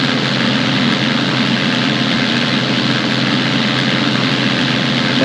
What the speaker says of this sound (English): all we need to do is just fly behind the tow plane until we get to release altitude